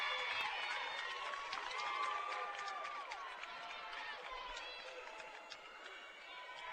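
Packed stands at a high school basketball state championship game, a steady crowd murmur with scattered cheers and clapping swelling and easing, fairly loud and continuous across the scene.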